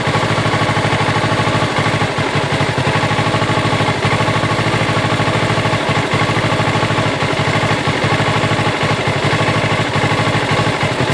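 A 2014 Kawasaki Ninja 650 idles unevenly, its engine note wavering and never holding steady, loud, close and continuous with no talk over it.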